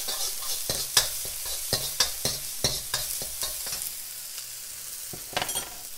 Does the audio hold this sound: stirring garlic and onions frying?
yes